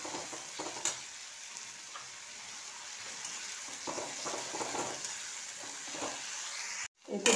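A paste of tomato, poppy seed, cashew, garlic and raisin fries in a pan with a steady, fairly soft sizzle and intermittent stirring scrapes, ending in a brief cut-off and a louder clatter.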